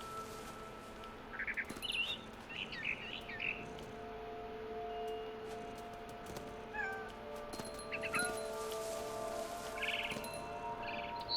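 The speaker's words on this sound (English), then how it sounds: "Then I heard chirping outside my window." A bird chirps in the video game What Remains of Edith Finch, giving short, scattered calls at irregular intervals over quiet ambient background sound.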